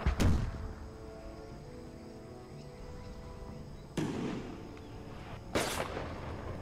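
Artillery pieces fire in an American Civil War video game with British intervention: three separate booming shots spaced several seconds apart, each a sharp blast with a rumbling tail, over a quiet battlefield ambience.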